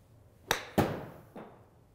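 A golf club strikes a Srixon Z-Star ball on a 50-yard partial shot outdoors, giving crisp sharp clicks: a couple of close impact cracks with short decays, then a fainter third knock.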